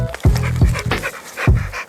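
An American Bully dog pants heavily close by after exertion, with quick, rhythmic breathy bursts about every half second and no talking over them.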